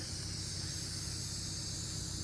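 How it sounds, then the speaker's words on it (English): Steady hiss of copper spray gasket material from an aerosol can coating engine gaskets for a 1993 Chevy OBS truck's 350, one continuous close spray without breaks. "spray gasket material and go ahead and spray those down, coat them real good with some copper"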